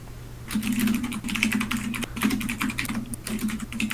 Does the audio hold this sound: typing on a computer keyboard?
yes